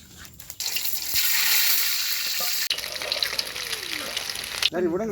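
Eggs frying in a pan over a village cooking fire make a loud, steady sizzle that starts abruptly and runs for several seconds, with light stirring clatter. A brief voice follows as it cuts off.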